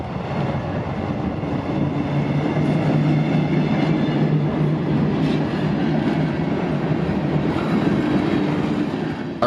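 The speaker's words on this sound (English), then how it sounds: "I'd be greeted by this train, CSX Y220, a boxcar local yard switcher job" A CSX Y220 boxcar local yard switcher freight train rolls past with a steady rumble and rhythmic clickety-clack of wheels, loud and continuous throughout, with no talking.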